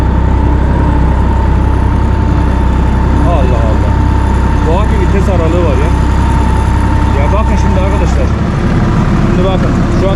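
An Erkunt 80.3 tractor runs in fourth gear with a steady, loud low-frequency drone close by, while a person talks over it throughout.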